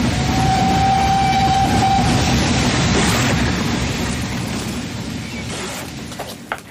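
A steam train travels at speed in a radio drama, a loud continuous rumble and rhythmic rattle with a steady whistle tone early on, fading slightly toward the end.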